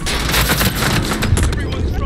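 Gunfire during a team battle-royale video game endgame, with dense rapid shots and booms crackling continuously over about two seconds, loud and close, with players' voices talking underneath.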